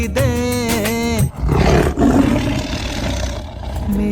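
Loud, rough roaring and growling of tigers at Ratapani, following a brief tonal, voice-like opening, then a sustained harsh roar that fades toward the end.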